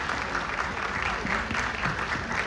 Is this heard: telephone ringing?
no